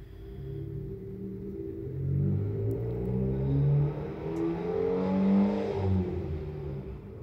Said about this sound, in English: let's wait till the car leaves